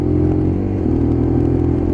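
A Lexmoto LXR SE Euro 5 motorcycle drones with a steady, loud, close engine note as it accelerates, the pitch shifting slightly around a gear change within a short stretch, with no voices.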